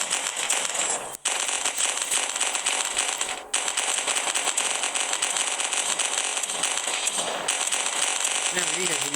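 Machine gun fire in a video game crackles in long, dense, rapid bursts, loud and nearly unbroken, with a few brief gaps. A voice speaks at moments over the shooting.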